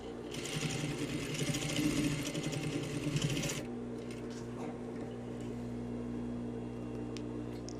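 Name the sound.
sewing machine stitching a double welt pocket seam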